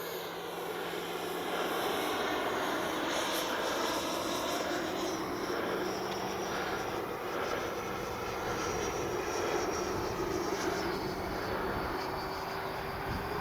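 E-flite 90mm Viper RC jet with its electric ducted fan flying overhead, a continuous whooshing whine with gentle swells in pitch as it passes at moderate distance, heard alone without talk.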